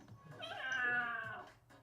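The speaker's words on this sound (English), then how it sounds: "Oh, that's the cat." A cat gives a single drawn-out meow, rising and then falling, lasting over a second at moderate distance with faint room noise around it.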